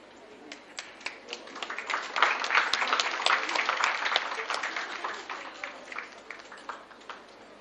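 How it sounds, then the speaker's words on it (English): A conference audience applauds the speakers, scattered claps building into a moderate round of applause from a seated crowd, then thinning out, heard fairly faint and roomy. "please give our applause for our honorable speakers."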